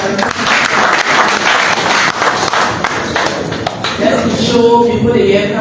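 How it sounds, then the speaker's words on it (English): An audience at an African Union delegates' gathering gives a round of applause, with loud, close clapping and thumps mixed with voices for several seconds before the clapping thins out. "Let's give a round of applause for our African"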